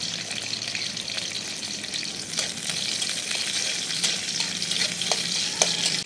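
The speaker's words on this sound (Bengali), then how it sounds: "তেলের সাথে পেঁয়াজ রসুন একটু ভেজে নিই।" Onion and garlic frying in oil in a pan, a dense continuous close sizzle with light stirring scrapes rising slightly toward the end, no talking.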